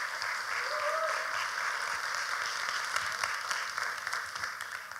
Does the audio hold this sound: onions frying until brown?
no